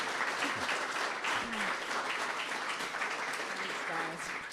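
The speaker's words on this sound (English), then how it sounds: "give you a big welcoming round of applause to Rachel, please." A showcase event audience gives dense, continuous applause that stays at an even loudness and fades a little at the end, with a few voices faintly underneath.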